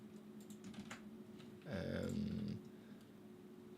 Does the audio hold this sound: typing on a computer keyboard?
yes